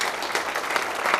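A brief burst of audience clapping at a company presentation, a dense, even patter of many hands that lasts only a moment and is heard alone.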